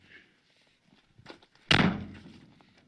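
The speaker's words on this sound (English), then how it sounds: "I have to slam the door to make sure it closes." A single loud slam of the door on a 1976 GMC truck, a heavy thunk that rings out and decays over about a second, preceded by some quieter handling noises.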